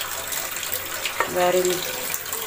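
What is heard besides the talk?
water being poured into chana masala gravy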